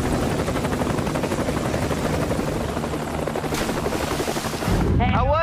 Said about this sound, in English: Three helicopters circling over your head.